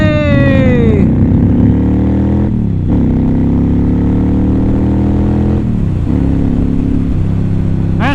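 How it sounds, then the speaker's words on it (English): A 2007 Honda Shadow Spirit 750 motorcycle engine runs loud and close, its low, steady rumble dipping and rising with a few brief throttle changes and no talking. "This 2007 Honda Shadow Spirit 750 has been taken out of the garage."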